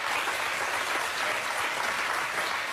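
Studio audience applause on a daytime talk show, a steady, even wash of clapping at moderate volume, continuous for a few seconds with no speech over it.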